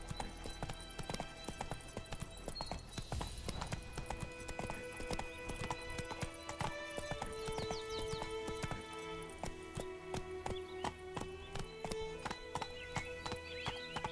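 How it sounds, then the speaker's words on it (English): Horse hooves clip-clopping at a gallop in The Witcher 3, with occasional whinnies, steady and close over game music and ambience throughout. "Giddy up. Run, Roach"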